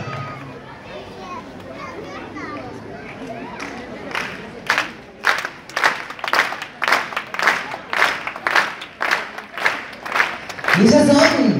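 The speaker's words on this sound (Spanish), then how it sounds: "queremos escuchar el aplauso" Audience applause at a national festival roller skating show for a club's youngest skaters, starting as crowd murmur with children's voices, then swelling into rhythmic clapping bursts that build toward the end.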